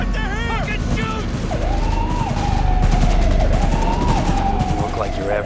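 Gunfire in a Cyberpunk 2077 police confrontation rattles in dense, continuous bursts alongside a wailing siren that rises and falls, all loud and close, with shouted voices over the top.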